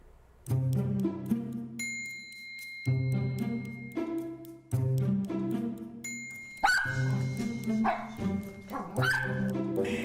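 Small dachshunds bark in sharp bursts at close range, the barks overlapping with steady sustained musical tones and a bright chiming ding.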